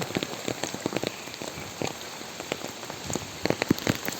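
Heavy rain pours over flooded village fields and roads in Sonagazi, Feni, a constant hiss with scattered sharp drops pattering close by on nearby surfaces.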